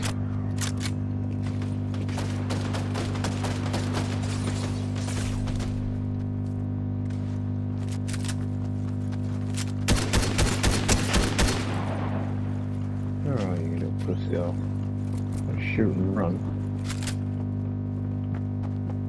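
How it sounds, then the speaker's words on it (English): Gunfire in the video game Fortnite: scattered bursts of rapid shots with a dense volley near the middle, then a few sharper pops, over a steady game drone and a low constant hum, no voices. "Oh, getting shot at. Getting shot at."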